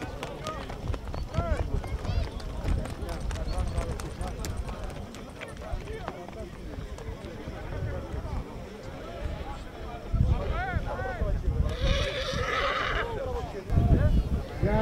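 Horses at a Greek horse show and exhibition neigh and whinny, with hooves clopping. The sound is mixed with a busy outdoor crowd and an announcer talking over a loudspeaker, and louder bursts come near the end.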